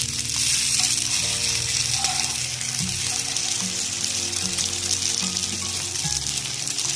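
An egg burger patty fries in a pan on a street-food style stovetop, giving a steady, close hiss of sizzling oil throughout, with a few soft scrapes and knocks.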